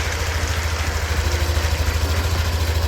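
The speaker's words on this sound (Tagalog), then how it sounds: "Pero yung tunog ng makina ngayon mga sir" A Yamaha Aerox V2 scooter engine idles steadily up close, a low rhythmic putter with a faint rattling vibration and knocking, loud and unbroken.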